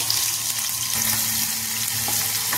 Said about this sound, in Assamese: এফালে তেল গৰম হৈ গল আৰু ইয়াতে মই অকনমান পাঁচফোৰণ আৰু আজৱাইন দি দিছো